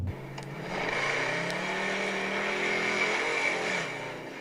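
A car accelerates hard, its engine note climbing in pitch as it revs up and then easing off near the end, heard from inside or close by with no talking over it.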